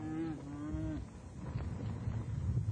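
Cattle mooing on a drive of about 2,000 head, one long, loud low moo near by, then a dense rumble of the moving herd and hooves.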